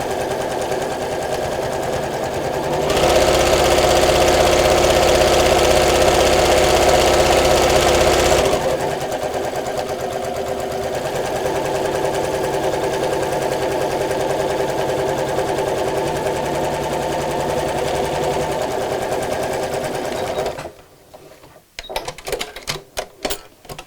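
A domestic sewing machine runs steadily as fabric is stitched for a DIY make-up organizer. There is a loud continuous burst, then a slightly softer run that stops abruptly, followed by a few faint clicks.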